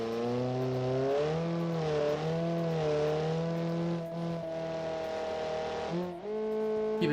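A loud, aggressive hot hatch engine in a racing video game accelerates hard through a launch in first gear. Its rising revving drone briefly drops at each gear change before climbing again, close and constant.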